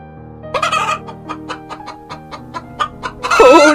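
Cartoon chicken clucking in a quick run of sharp, evenly spaced clucks over a faint musical background, rising into a louder, busier burst of squawking at the end; no talking.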